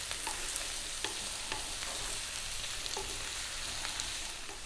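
Beetroot and potatoes frying in a pan for Ethiopian cooking, a steady close sizzle with occasional soft stirring scrapes, no voices.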